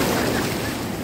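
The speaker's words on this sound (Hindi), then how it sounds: "काफ़ी ऊंची लहरें आ रही हैं" Broad, steady roar of high monsoon surf breaking on a beach in Kerala, a continuous wash of ocean noise with wind buffeting the microphone, close and loud with no voices.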